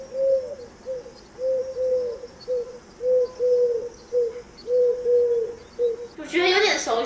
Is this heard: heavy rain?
no